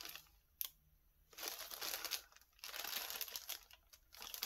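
Plastic sack holding Rolodex cards being handled close by, soft crinkling rustles in several bursts separated by brief quiet gaps.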